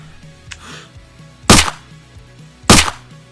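Suppressed gunshots in the video game Screaming Dayz: two sharp, loud cracks about a second apart, each with a short decay, over quiet background game sounds.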